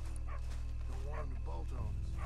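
A dog barks in Red Dead Redemption 2, a few short yips and woofs layered over steady talking and constant game background noise.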